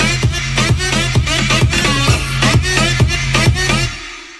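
Stacked synth layers of an electronic dance drop play together over a pounding beat with regular punchy hits and a sustained bass, loud and dense, ending with a brief fade.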